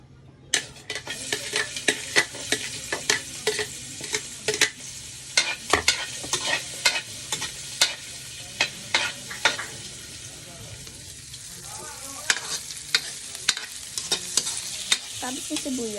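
Chopped onion sautés in a little olive oil, a bright sizzle carried under frequent rhythmic clacks and scrapes of a spoon against the pan, busier early on, easing midway, then picking up again.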